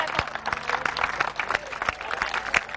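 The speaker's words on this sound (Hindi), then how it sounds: "इनके लिए बहुत सारी तालियां," A crowd gathered at a sit-in protest claps for a participant, a busy, fairly close patter of many hands with a few sharper claps standing out, continuing unbroken for the short stretch.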